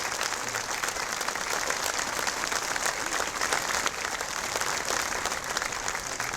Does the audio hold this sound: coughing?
no